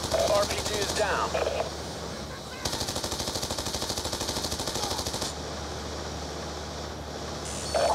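Rapid automatic gunfire in Call of Duty: Black Ops 2, a Strike Force mission with a convoy under attack, rattles in dense continuous bursts that pause briefly and resume, with voices speaking over the shooting.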